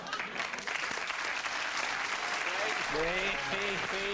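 An audience bursts into sustained clapping that swells and holds, with a voice rising over the applause near the end.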